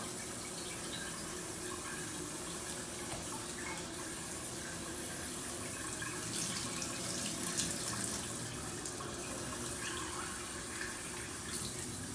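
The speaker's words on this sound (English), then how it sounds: "First, we'll just run the regular tap water." Regular tap water runs steadily from a kitchen faucet into a sink, a continuous broadband rush with no pauses, fairly close and alone without talk.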